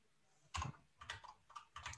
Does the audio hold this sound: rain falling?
no